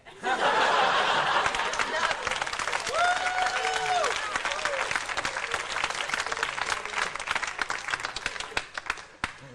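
Audience applause and laughter at a stand-up comedy show swell loudly and hold steady for several seconds before tapering off. Brief voices and chuckles mix into the dense clapping.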